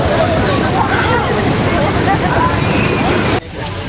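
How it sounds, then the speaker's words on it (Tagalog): A vehicle drives through the water of Bagsit River in Palauig, Zambales, raising a loud continuous rush of sloshing and splashing that cuts off abruptly near the end, with voices faintly underneath. "Yung sasakyan dumadaan sa tubig."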